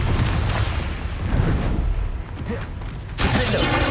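Confringo fire-blast spell in the video game Hogwarts Legacy: a dense, loud explosive roar that rumbles continuously, with a fresh burst erupting near the end amid dueling spell effects.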